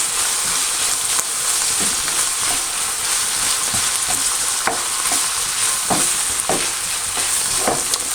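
Smoked paprika and ground cumin are stirred into a beef chili that sizzles steadily in the pan, with a constant frying hiss and repeated scraping knocks from the spoon.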